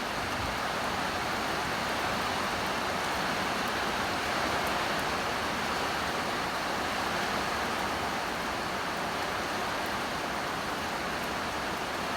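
Rain pours steadily on a farm garden of banana plants, grass and trees, a dense, even hiss that holds at the same level from start to finish with no voices.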